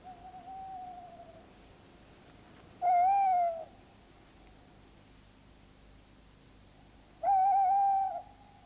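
A tawny owl answers with two long, clear hoots several seconds apart, loud and close over a faint steady hiss, with a softer tone preceding the first.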